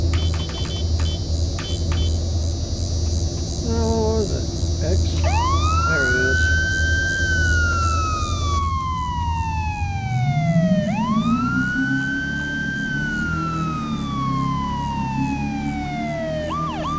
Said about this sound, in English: there's a key for the siren on this one.